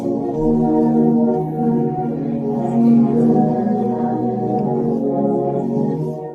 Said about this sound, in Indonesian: Sekarang kita coba denger instrumennya saja.